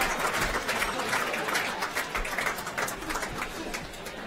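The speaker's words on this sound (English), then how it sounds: "Ladies and gentlemen, Pippa Smythe, give her a round of applause." At a 2018 Mostyn Medal night, the audience applauds the medalist with steady, dense clapping that fills the room at moderate loudness with no clear breaks.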